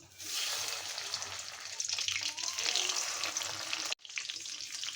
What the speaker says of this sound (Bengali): আমি এখন মাছগুলো এক এক করে ভেজে নিব